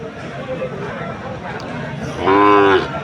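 A Sahiwal bull calf lets out one loud moo near the end, preceded by background voices and noise at a livestock market.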